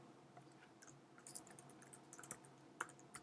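Faint key taps come from typing on a computer keyboard, with a few soft, uneven clicks scattered across a few seconds and no voices.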